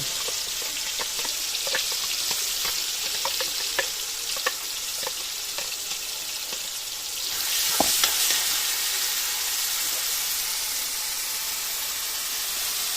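Onion, tomato and garlic paste frying in a pan with steady sizzling and occasional stirring scrapes, the hiss swelling louder about halfway through as it sputters, close and with no talk.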